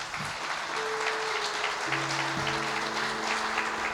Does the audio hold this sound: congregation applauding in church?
yes